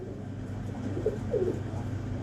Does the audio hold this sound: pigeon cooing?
yes